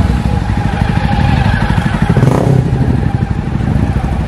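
Dense engine rumble from a large group of motorcycles setting off together on an Independence Day freedom ride of 200-plus bikers, with steady revving throughout and crowd voices and cheers mixed in.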